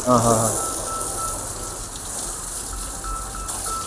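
Water gushes steadily over a car being rinsed during a wash, a continuous loud spray with a brief voice near the start.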